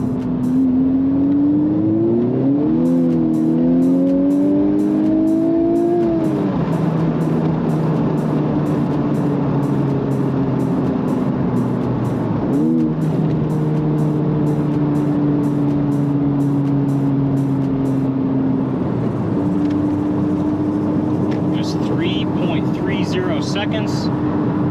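A Honda Civic Type R on fresh, cold tires accelerates hard through several gear changes, the engine note climbing and dropping with each shift before holding steady, loud and close, with a voice talking over it.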